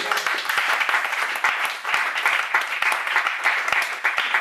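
A church congregation at a Sunday service breaks into loud, sustained applause, dense overlapping claps filling the room without letup.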